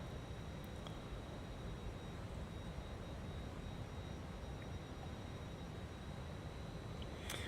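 An F-28 airliner descends in Microsoft Flight Simulator 2020, its engines a steady, faint, hissing drone with no break throughout.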